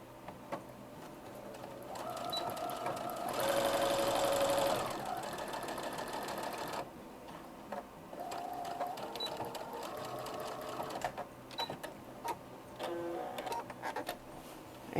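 Sewing machine running a straight seam on an egg apron, bursts of rapid needle chatter and motor whine starting and stopping several times, close and fairly loud, with brief pauses between runs.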